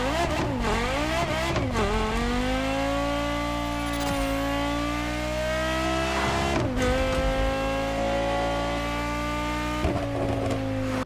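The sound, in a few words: car engine sound in The Crew Motorfest video game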